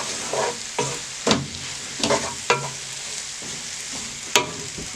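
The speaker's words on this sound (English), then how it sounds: "and stir again" Onions caramelising in oil, butter and sugar sizzle in a pan while a spoon stirs them in repeated scraping strokes, about one every half second, close and clear with no talking.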